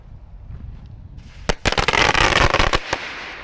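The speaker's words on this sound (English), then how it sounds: "here goes the Black Cat firecrackers" A quick string of loud, sharp Black Cat firecracker pops bursts out after a quiet fizzing moment, crackling rapidly for about a second and a half.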